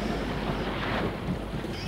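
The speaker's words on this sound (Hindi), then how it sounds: "तेज हवाएं चली।" Strong, steady gusts of wind roar during a storm, a dense, continuous rush buffeting the microphone, with no voices.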